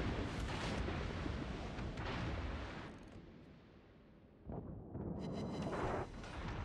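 Heavy booming blasts of battleship shells firing in the World of Warships naval game, a few deep rumbling explosions that swell and fade, with a quieter lull in the middle before more loud thuds return.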